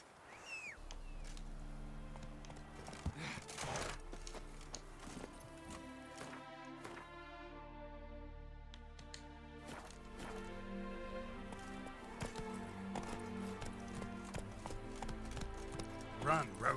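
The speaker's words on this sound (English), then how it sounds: "Run, Roach" Hooves of the horse Roach galloping in The Witcher 3 video game, a steady rhythmic clip-clop running under game music and ambient sound throughout.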